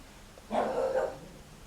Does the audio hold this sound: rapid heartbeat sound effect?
no